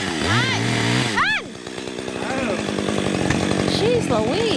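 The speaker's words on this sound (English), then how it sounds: "I'll take my chainsaw and just score it so I know where that mark is" A chainsaw scoring a mark on a log during horse logging revs and whines up and down at close range, its engine pitch rising and falling as it cuts, with a voice speaking over it.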